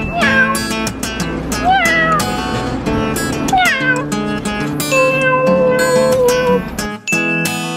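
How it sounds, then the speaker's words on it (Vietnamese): Several cats meow in overlapping, drawn-out cries in a cat village in Houtong, Taiwan, some close and loud, others further off, with a few yowling calls and a short pause near the end. "Công nhận là mèo khắp nơi."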